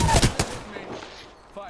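Several sharp, loud video-game gunshots crack in quick succession and then fade into a lingering echo within a second or two.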